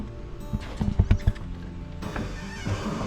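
Clydesdale and Shire horses at Lost Valley in Wisconsin Dells give a quick run of close, heavy hoof clops followed by a fainter whinny amid outdoor ambience.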